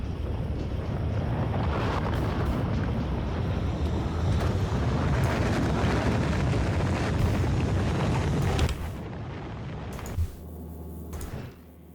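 A rocket launches in the video game Factorio as a sustained, loud, broad roar that holds steady for about nine seconds, then drops abruptly to a quieter low rumble and fades.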